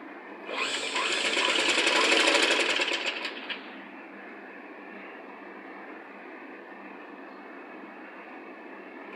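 Sewing machine stitching a children's Punjabi dress top, with a loud close burst of rapid mechanical whirring for about three seconds that stops and gives way to a faint low hum.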